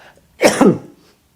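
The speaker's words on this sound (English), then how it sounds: "just let me have a cough" A single short, forceful cough close to the listener, with quiet room tone before and after.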